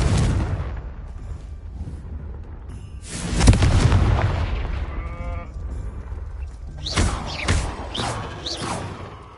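A Confringo explosion spell goes off in the Hogwarts Legacy video game, a single loud boom midway through, with cattle lowing repeatedly around it.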